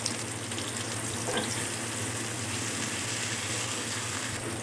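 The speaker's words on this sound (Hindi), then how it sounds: "तो प्याज को गोल्डन होने तक फ्राई करेंगे।" Two medium onions fry in hot oil for a chicken dish, a dense continuous sizzle close by with steady crackling and no talking.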